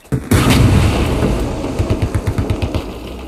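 Gunfire in a video game aimed at an LAV armored vehicle: a loud burst opens, followed by a steady run of rapid, evenly spaced shots over a constant low rumble.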